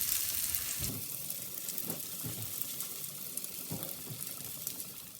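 Fish frying on a tawa, Lahori style, a continuous bright sizzle of hot oil with a few soft thumps and scrapes from turning, fairly quiet and steady.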